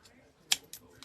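Scissors snip paper or card for a Santa craft, one sharp close cut followed by two softer clicks in quick succession.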